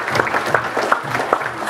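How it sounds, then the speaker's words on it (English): Short burst of clapping for a presenter at a property sales training event, a small group with a handful of distinct, close claps standing out over a murmuring backdrop. "Massive, massive round of applause for Jessen."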